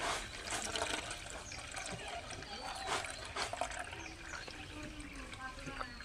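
Water from washed raw potatoes poured gently from a slight height into another bowl, a soft continuous trickle and splash with faint clinks, close by.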